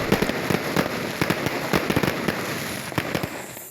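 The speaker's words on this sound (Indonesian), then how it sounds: "Letusan kembang api menandai pergantian tahun di Kabupaten Kaimana" New Year fireworks in Kaimana, West Papua, crackle and pop in a dense, steady stream of sharp bangs. The bursts are loud and fairly close, with overlapping reports and a rumbling background.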